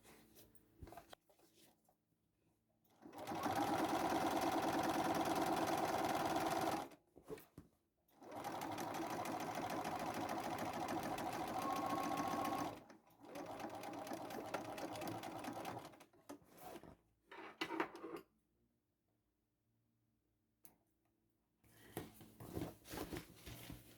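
A sewing machine top stitching a bag, several loud close runs of rapid stitching split by short pauses, with a later stretch broken into stop-start bursts and quiet handling sounds.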